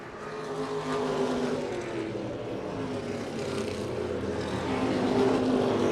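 Modified race cars run side by side on a racetrack, producing a continuous, fairly distant engine roar that swells slightly toward the end.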